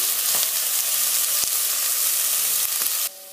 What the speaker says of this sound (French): Je fais revenir un petit peu les oignons, je les fais tomber, même dorer un petit peu